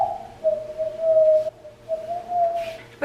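A person tries to whistle and produces a thin, wavering tone that rises and falls over a few seconds, with short gaps between efforts, up close and with no other sound around it.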